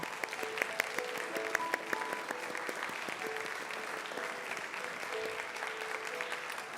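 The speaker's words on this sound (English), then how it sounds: "I invite you to rise so we can just give you a huge round of applause" Congregation standing for a huge round of applause at a church service, steady dense clapping throughout, with faint voices and a few brief tones over it.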